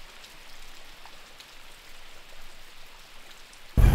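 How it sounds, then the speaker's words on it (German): Continuous rain falls in the Brazilian rainforest as a soft, steady patter, interrupted at the very end by a sudden loud burst of noise. "Seit 3 Tagen regnet es ununterbrochen."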